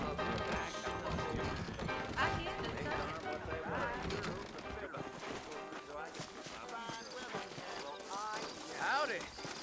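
Horse hooves clip-clop steadily in a Western open-world game set in a frontier town, mixed with a snort or whinny amid continuous game music and voices talking.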